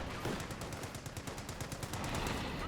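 Rapid rattling machine-gun and rifle fire from a Company of Heroes battle, a steady dense stream of shots close and loud with no talk over it.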